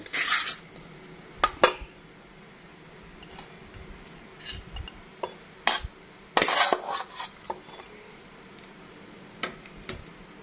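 Pork larb is scooped onto a plate, with scattered close clinks of a utensil against dishes and a few louder scrapes and knocks at irregular intervals.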